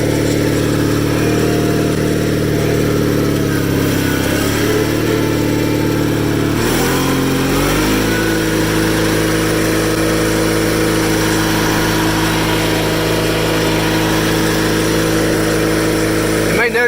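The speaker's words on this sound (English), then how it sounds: "This is probably the fastest garden tractor I've ever owned" A custom Cub Cadet 782 hydrostatic garden tractor drives at top speed, a steady, loud mid-pitched engine hum that dips and shifts briefly midway before settling back into a constant drone.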